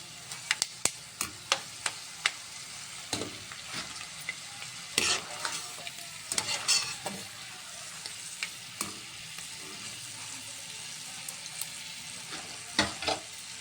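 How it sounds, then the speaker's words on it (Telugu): Curry leaves fry in hot oil for a spiced boondi snack, a soft steady sizzle broken by frequent sharp clicks and scrapes of a spoon stirring against the pan, close by and fairly quiet, without speech. "దీని తర్వాత కల్లమాకు కూడా వేయించుకుందాం నూనెలో"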